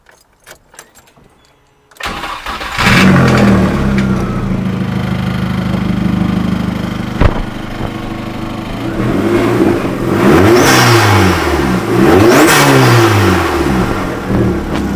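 Keys jingle in quiet, then an engine cranks and catches, idles roughly, and is revved up several times in rising and falling sweeps.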